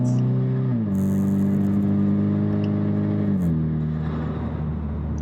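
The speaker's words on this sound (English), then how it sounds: "I love this exhaust. It has a really unique tone to it." Exhaust note of a four-cylinder Ford Mustang under way, a steady droning engine tone that shifts pitch as the car changes speed, heard from inside with a faint rustle and whir over it.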